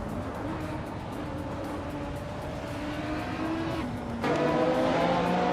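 Race cars roaring in a video game race, engines droning steadily with changing pitch as they run nose-to-tail, growing louder near the end under a constant mechanical hum.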